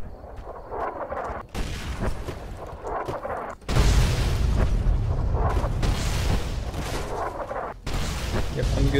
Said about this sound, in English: running around in a place that launches mortar shells at me